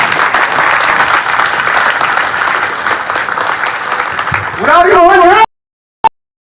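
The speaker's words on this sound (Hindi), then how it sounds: "उनका स्वागत करियो सब कोई खड़ा होकर ताली हो जाके।" Meeting audience applauds as a legislator is welcomed, a long dense wash of clapping that gives way to a loud voice near the end before cutting off.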